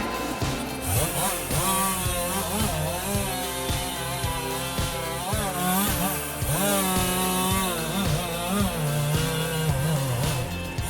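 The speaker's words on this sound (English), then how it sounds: "The 28C hot saw head, known for its rapid cutting cycle, enhances the machine's capacity to harvest timber" Tree harvester with a 28C hot saw head cutting large-diameter timber, a loud whining saw drone that rises and falls through repeated rapid cutting cycles over steady machine rumble.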